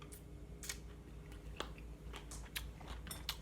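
Someone chews food, a black olive, close up, with soft, wet crunching and biting sounds repeating irregularly over steady background hum.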